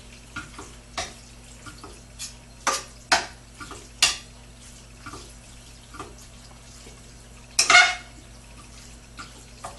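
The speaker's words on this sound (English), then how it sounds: "Keep stirring it." Pieces of meat cooking in a pan with a little water, stirred now and then: a faint, steady sizzle broken by sharp intermittent scrapes and clacks of the utensil, the louder strokes coming in irregular bursts.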